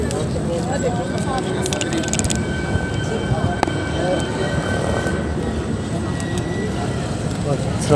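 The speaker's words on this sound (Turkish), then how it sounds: "Tramvay arkada geliyor." A tram rumbles past at close range, a steady loud rolling roar with faint metallic squeals, while a person talks over the noise.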